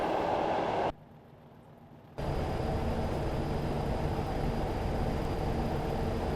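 A BR Class 40 diesel train's rolling stock rumbles steadily past at close range in Train Simulator 2016, dropping away briefly before the heavy rolling roar of the carriages returns.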